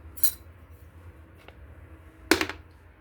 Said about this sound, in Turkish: dediğim gibi bir kaşık kimyonumuzu ekleyelim